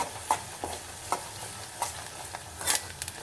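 Garlic paste frying in a pan for tamarind rasam, a soft continuous sizzle broken by a run of short scraping stirs at a quick, uneven pace, close and quiet with no voices.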